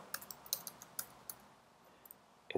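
A computer mouse and keyboard click in quiet succession, a string of light, sharp taps at uneven intervals, close and fairly faint, with a slightly louder cluster at the end.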